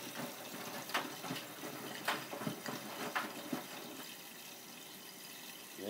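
A Miele W562 washing machine takes in water for a rinse on a woollens cycle: a soft, steady rush of filling water with scattered faint splashes and knocks.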